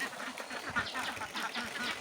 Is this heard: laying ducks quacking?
yes